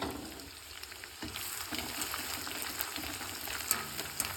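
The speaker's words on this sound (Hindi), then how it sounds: "भाई अपना घी हो गया गरम, अब इसमें करेंगे हम गोंद फ्राई फर्स्ट क्लास।" Edible gum (gond) frying in hot ghee for desi laddu, a steady close crackling sizzle with bright popping bursts, continuous through the whole stretch and heard alone with no talk.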